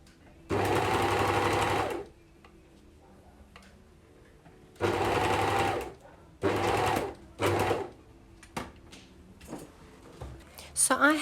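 Sewing machine stitching a fabric strip onto a blanket edge, running in several loud bursts of steady whirring with pauses and softer handling noises between, alone without voices.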